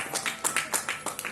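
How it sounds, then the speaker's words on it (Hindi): A small audience claps for a child at a religious talk, a quick run of scattered hand claps lasting just over a second, close and fairly light. "ताली बजाइए बच्चे के लिए जोरदार"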